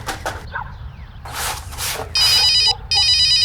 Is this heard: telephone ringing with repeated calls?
yes